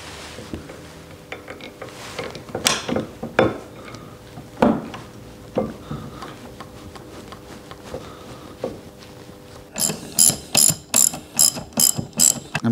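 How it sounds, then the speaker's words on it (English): A ratchet wrench tightens a brake bolt on an old Sportster motorcycle, with scattered clicks and clanks of the tool being fitted, then a closing run of quick, evenly spaced ratcheting clicks, close and loud. "try to bolt it down"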